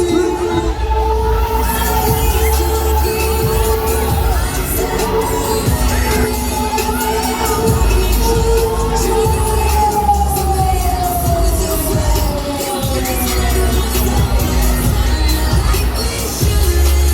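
A crowd screams and cheers steadily on the Reactor fairground ride at the Mega Kermis funfair by GelreDome in Arnhem, 2021, a loud, continuous wash of voices over droning music and ride noise.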